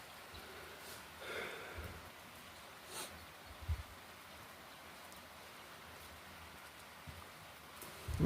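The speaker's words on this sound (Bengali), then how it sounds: "দেখুন কি জোরে বৃষ্টি হচ্ছে" Heavy rain falling outside an open first-floor window, a steady soft broadband hiss with a few faint low thumps and brief louder bursts, no voices.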